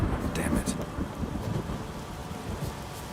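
A thunderstorm with rain in the video game Witcher 3, heard as a steady, dense rumble of rain and low thunder that fills the whole span, loud and continuous.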